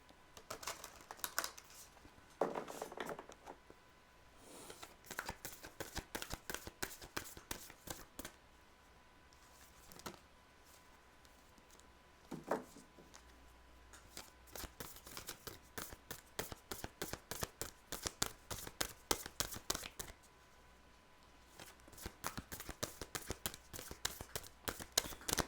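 A Guan Yin oracle card deck being shuffled, with long runs of rapid, quiet, crisp card flicks close by and brief pauses between bursts.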